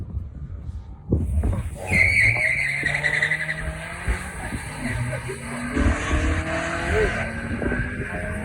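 A 1992 Honda Civic at a drag strip, with tires squealing and skidding and the engine revving hard in a sustained roar. The sound is loud and fairly close, and faint talk sits underneath it.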